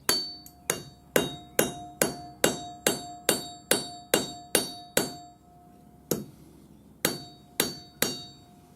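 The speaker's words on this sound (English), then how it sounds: "what I'm going to do is just hammer it on the anvil" A rough hammer striking the end of a steel setting punch on an anvil, a dozen sharp ringing blows in a fast even rhythm, a short pause, then a few more strikes, loud and close.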